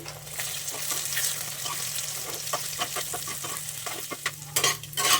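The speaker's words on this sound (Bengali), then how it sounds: "তরকার জন্য যে ডিম দুটো নিয়েছিলাম সেই ডিম দুটো ফাটিয়ে এখানে দিয়ে দিচ্ছে।" Two eggs crack into hot oil in a pan and fry for egg tadka, giving a steady close sizzle with scattered crackles and spatters and a brief louder burst near the end.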